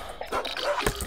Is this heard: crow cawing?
no